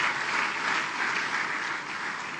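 An audience breaks into steady, continuous applause for a man from Kerinci at a stockist business gathering, the dense clapping staying even and fairly loud for the whole stretch with no voices on top.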